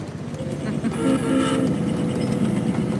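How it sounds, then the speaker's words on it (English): A tourist train with antique cars runs past with a steady rumble and clatter of wheels on rails, fairly loud and continuous, with faint voices underneath. "I'm riding the train."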